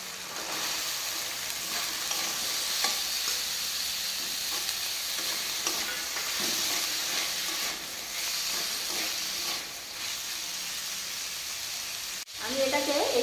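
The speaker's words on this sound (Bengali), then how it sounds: "এবার তাহলে আমি কুচানো আলুগুলোকে দিয়ে দেব।" Chopped potatoes fry in a pan for Kolkata-style ghugni, a steady, close sizzle and hiss running throughout with occasional scraping from stirring, and a sharp clatter near the end.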